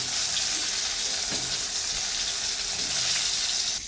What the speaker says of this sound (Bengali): তেল আমার গরম হয়ে গেছে, এবার বেগুনগুলো ভেজে নেব।